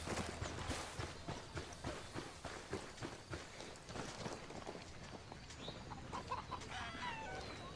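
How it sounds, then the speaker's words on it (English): Chicken clucking in the video game Ghost Recon Wildlands, quick repeated clucks and scratchy footfalls over an outdoor game ambience, fairly near and moderately loud. "Chicken."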